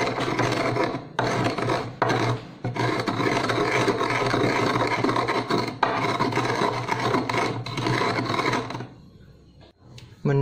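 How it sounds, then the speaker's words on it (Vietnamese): Vegetarian seasoning granules are ground into a fine powder with a continuous, close, rasping scrape, broken by a few short pauses before the sound trails off at the end. "Do cái phần này nó hơi to nên mình sẽ cà cho nó mịn ra"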